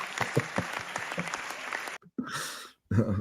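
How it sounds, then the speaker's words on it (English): A short burst of applause, dense clapping with a few sharp individual claps up close, cutting off abruptly and followed by brief bits of other noise. "There's a round of applause for you, buddy."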